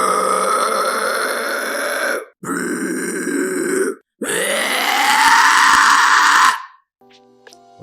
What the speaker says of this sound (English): Have you ever wanted to scream like this?